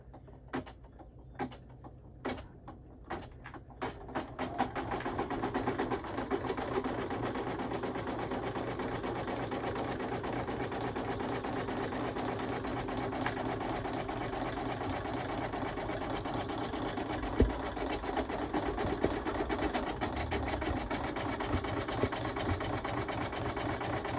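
A sewing machine stitches a soft keytag, starting with a few slow single needle thumps before it settles into a loud, continuous, even whir of rapid stitching that runs for about twenty seconds.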